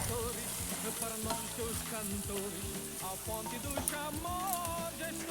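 Spices, including roasted cumin powder, stirred in a hot pan for a basic egg curry: steady frying sizzle with repeated scraping strokes of a spoon, close and fairly loud under faint background music.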